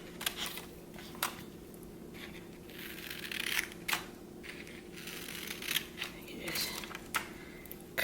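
Scissors snip through paper for a shark-themed tissue box craft, with sharp isolated cuts spaced irregularly over a low room hum, while a person speaks nearby.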